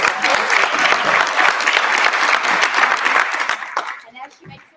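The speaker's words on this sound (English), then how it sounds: "Let's give her a round of applause." Audience applause at a national advocacy conference as the panel moderator walks up, a dense, sustained burst of clapping that thins out and tapers off in the final second.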